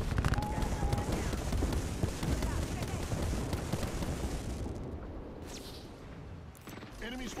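Gunfire in Apex Legends: a dense, loud, continuous barrage of overlapping shots and blasts that rolls on for several seconds, thins out toward the end, and then gives way to a brief voice.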